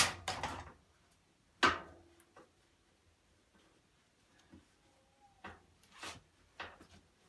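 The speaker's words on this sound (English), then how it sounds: "soap drawer needs to come out of the way." Plastic soap drawer being pulled out of a Bosch washing machine during a bearing replacement, a few sharp clacks and slides in quick bursts, close and fairly loud, separated by quiet pauses and small knocks.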